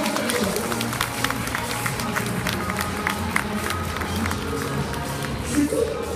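An audience at the Paris agricultural show (SIA 2016) claps warmly for trainers presenting Percheron horses, steady crowd applause mixed with background voices.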